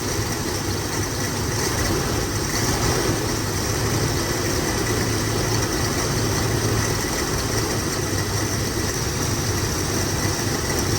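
A 1958 Buick Special with a nailhead V8 runs rough on its first start in two years, a steady, loud engine rumble with an uneven low idle continuing throughout and no voices.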